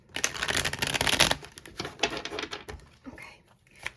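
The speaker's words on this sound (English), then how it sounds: "Get a good shuffle in." Tarot cards are shuffled by hand in close, papery riffling bursts that rise and fall over a few seconds, with no talking.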